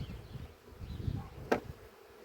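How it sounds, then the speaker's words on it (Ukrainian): Honey bees buzz over brood frames opened from a hive, a soft low drone close by with a single sharper buzz passing near the microphone partway through. "А це в нас на секундочку, грубо кажучи, 10 тисяч бджол"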